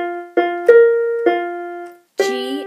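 Keyboard plays the right-hand melody line of a song, four clean sustained notes struck one after another with steady decays and a short gap before the last.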